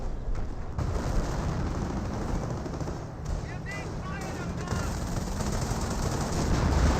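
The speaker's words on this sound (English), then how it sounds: "And some more artillery raining on in." An artillery barrage in the video game Company of Heroes 1 makes a continuous, dense roar of explosions and gunfire that stays loud throughout.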